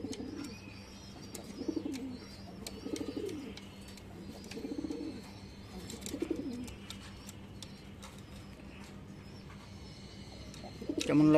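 A pair of Kanthi pigeons coo in soft repeated bursts at close range, separated by quiet gaps and scattered small clicks and rustles.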